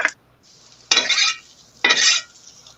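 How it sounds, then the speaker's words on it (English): Peppers frying in oil in a pan on a kitchen stovetop: two loud, hissing bursts of sizzle with stirring clatter, separated by a quieter low simmer, close by with no talk. "Frying them on the range, on the stove top"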